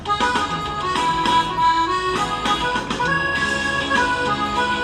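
Music with layered instruments and melody plays through the four small speakers of a Lenovo Tab P11 Plus tablet, full and steady, with no talking.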